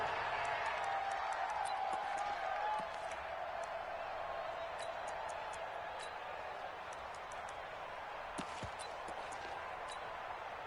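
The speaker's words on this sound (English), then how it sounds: "The crowd getting into it as we come up on a big 3rd down." Crowd in a football video game stadium, heard as a steady, dense roar of cheering that holds at an even level for the whole stretch, with a few faint sharp clicks on top.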